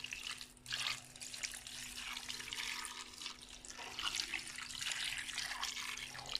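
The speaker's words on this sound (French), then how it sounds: "je vais mettre l'eau un petit peu" Water running into a cooking pot from a tap while an onion and salt dish is prepared, a steady hissing splash with slight surges, faint and fairly close, no talking.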